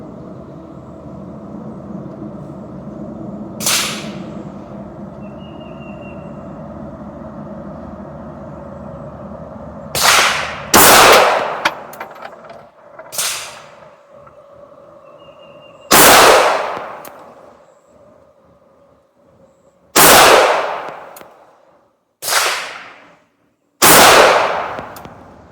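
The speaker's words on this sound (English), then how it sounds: "LCP Max, Blazer brass, shooting at the upper left." A Ruger LCP Max pistol fires Blazer brass ammunition in several loud, close, sharp shots at irregular intervals, two of them in quick succession, over a quieter outdoor background.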